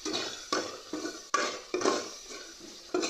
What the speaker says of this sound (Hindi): दालचीनी और साबुत गरम मसाला भी इसके अंदर ऐड कर दूँगी। और इसकी अच्छी सी भुनाई करेंगे।